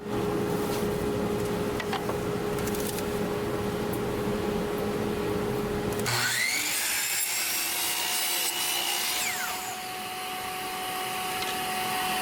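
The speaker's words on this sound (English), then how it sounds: "I'm going to go ahead and cut a 4" by 4" square from this piece of 1/4" plywood" A saw cuts a 4 by 4 inch square from a quarter-inch plywood sheet, a steady close rasping rush for about six seconds, then a higher, thinner grinding whine that continues and fades slightly near the end.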